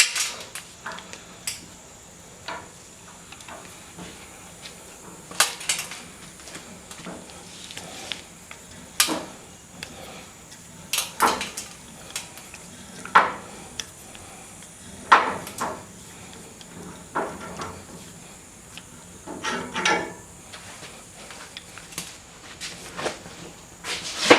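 Hand pipe threading die backed off a freshly threaded steel pipe, giving scattered metallic clicks, ratchet knocks and scraping taps at an irregular, unhurried pace against a quiet background.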